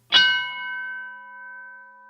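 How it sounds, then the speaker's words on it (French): A single church bell strikes once, a sharp metallic clang that rings on in a long, slowly fading hum, clear and fairly close with nothing else audible. "Quand vont cesser ces foutus coups de cloche?"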